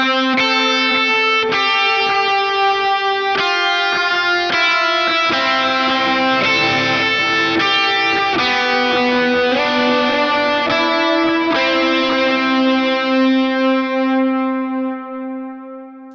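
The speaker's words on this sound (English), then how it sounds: "So I'm going to turn all the drive on and the delays and play it at tempo" An electric guitar plays the lead line of a song at tempo, with overdrive and delay. A steady sequence of bright, sustained notes trails into echoes for about sixteen seconds, loud and close, with no voices.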